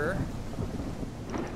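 Low rumbling thunder of a radiation storm in a survival video game, a steady dark roll throughout with a brief higher crackle near the end; a faint voice is in the background.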